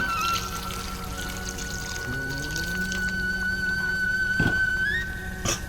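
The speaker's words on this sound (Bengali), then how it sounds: "আমার চিকেনটা তো কষানো হয়ে গেছে আমি এবারে জল দিব পরিমাণ মতো" Water is poured into browned chicken curry cooking in a pot, a continuous close liquid pour and trickle with a steady tone running underneath and a couple of brief clatters near the end.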